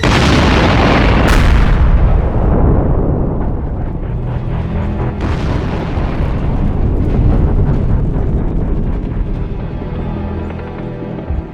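A ship's powder magazine explodes in a museum sound effect: a massive, close boom bursts out with a sharp crack, then a long roaring rumble carries on, swelling again partway through and slowly fading.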